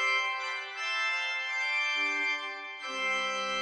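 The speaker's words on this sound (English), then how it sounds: "Mixture, as you can see, sounds like this." The mixture stop of a large new Rieger pipe organ in Vienna plays alone: bright, shrill sustained chords rich in high ranks, shifting notes twice, steady and clear with no talking.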